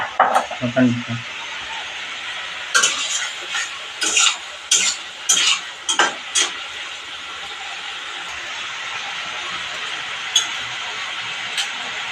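Vegetables sizzle steadily in a pan while a spatula scrapes and stirs in a string of sharp, close strokes, then the frying carries on alone with occasional taps.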